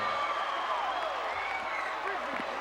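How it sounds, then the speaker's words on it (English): Crowd in a televised pro wrestling arena applauding and cheering for Leaping Lanny Poffo as he is introduced, a steady dense wash of clapping and noise throughout, with a commentator talking over it. "Tremendous round of applause here"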